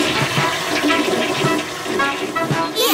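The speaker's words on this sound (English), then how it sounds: "Have you flushed?" A toilet flushes in a children's cartoon with a loud, steady rush of water that lasts the full three seconds and gurgles near the end, close and alone.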